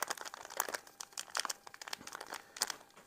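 A 2007 MRE tuna pouch being folded, with crisp plastic-foil packaging crinkling and crackling in several quick bursts, close and fairly quiet.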